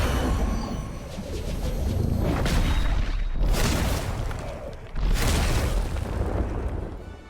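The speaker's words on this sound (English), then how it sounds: "I guess we'll be doing some explosion stuff" Explosions in the video game Marvel's Midnight Suns: two heavy booming blasts a few seconds apart, each a sudden loud burst that rumbles on, over a continuous roar of battle ambience.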